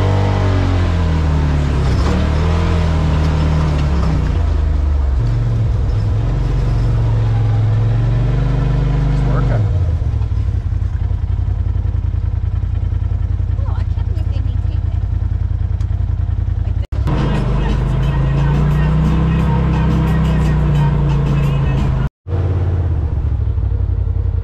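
A Polaris RZR Pro side-by-side on a Timberline ANF trail, its engine droning and rumbling loudly and continuously with rising and falling revs, a voice talking over it at times.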